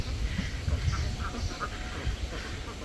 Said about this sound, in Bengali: হাঁসগুলা সব ওইখানে মানে ডাঙায় একটু দাঁড়ায় আছে